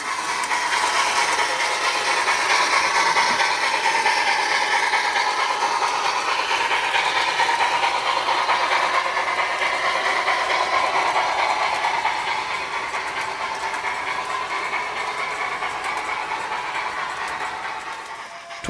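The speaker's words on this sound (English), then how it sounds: "Nearing its destination, the train passes the Elmhurst Reservoir." A steam locomotive pulling a train rumbles steadily past at close range, a continuous rolling roar with faint rhythmic clatter, easing slightly toward the end.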